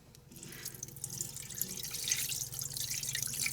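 About half a cup of water poured into a pot of potatoes, starting after a brief quiet moment and building into a steady splashing trickle with dripping, close and moderately loud.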